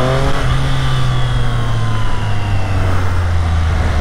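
A Triumph Street Triple 765 RS motorcycle's 765 engine revving hard at Interlagos circuit, a loud close steady drone with a strong tone that sags slightly in pitch as the run continues, no voices.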